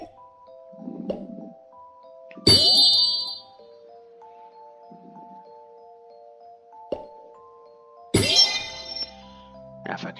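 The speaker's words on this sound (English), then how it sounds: "Oh, the bells." Chiming bells and jingling tones from the video game HuniePop, sustained ringing notes with two bright sparkling bursts, heard alongside game music while a voice occasionally talks over it.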